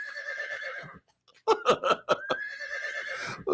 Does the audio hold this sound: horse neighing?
yes